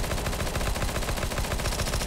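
Rapid automatic gunfire from a weapon in CS:GO deathmatch, a dense continuous burst of shots lasting the whole two seconds, loud and close with no talk over it.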